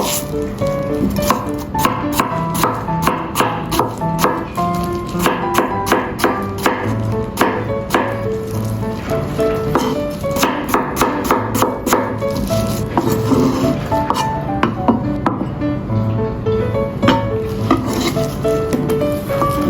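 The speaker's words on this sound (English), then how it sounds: "Peel and sliced Chinese yam." A knife slices peeled Chinese yam on a board, with rapid, crisp repeated cuts close by and a busy kitchen clatter underneath, no one talking.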